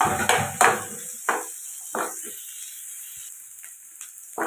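Chopped onion with turkey berries is sautéed in a pan: several sharp scraping stir strokes, loud at first then softer, rise over a thin, constant sizzle close by.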